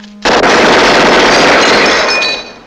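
Sustained automatic weapon fire in a 1971 science-fiction film trailer, a dense loud burst of rapid shots lasting over two seconds before cutting off abruptly.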